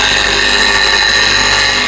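A wood-turning gouge held against a spinning bench grinder wheel, giving a steady, loud, bright grinding hiss with no break, close up and alone.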